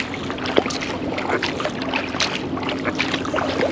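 An Epic 18x sport kayak paddled at cruising speed on open water around Hope Island in Puget Sound, with rhythmic paddle splashes and water swish under steady wind noise.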